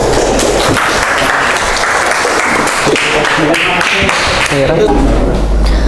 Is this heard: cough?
no